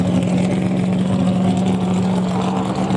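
A NASCAR Sprint Cup Series race car sits in the garage with its engine running, a loud, steady, droning rumble heard up close with a constant low hum throughout.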